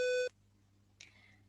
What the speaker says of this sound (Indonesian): Nah, ketika buzzer ini berbunyi, maka relay pun akan terputus